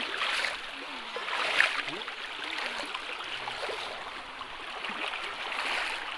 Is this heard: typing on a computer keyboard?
no